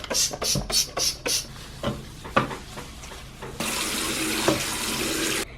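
A few scrubbing or splashing sounds, then a tap opens and water runs steadily into a bathroom sink, a loud close rushing that continues for several seconds.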